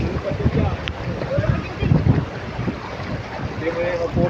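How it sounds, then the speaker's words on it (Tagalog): Strong wind buffets the microphone at sea during stormy weather, a steady roaring gust with broadband rumble and surf-like wash throughout, while people talk intermittently over it. "Malakas yung hangin"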